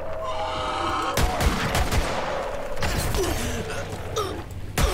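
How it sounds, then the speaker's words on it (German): Rapid bursts of gunfire in the video game Borderlands 3, sharp cracks and rattling volleys layered over a constant low rumble and electronic background tones. "Ich kann eine Patrone nachladen und dann schießen."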